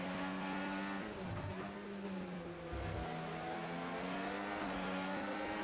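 Formula 1 race cars from a video game roar continuously at high revs, engine tones rising and shifting as cars jostle for position around the Singapore circuit, loud and steady throughout.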